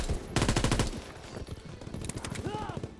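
Rapid automatic gunfire in the video game Call of Duty WW2, a fast burst of shots followed by scattered fire and a faint voice.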